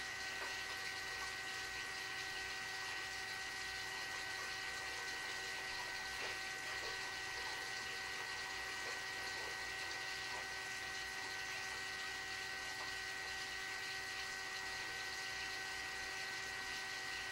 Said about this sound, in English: Now I'm going to pause and put a whole lot more water through here